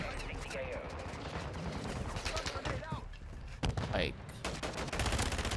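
FR Avancer rifle fire in Modern Warfare 2, Season 5: rapid repeated shots in quick bursts, loud and close, with someone talking over parts of it.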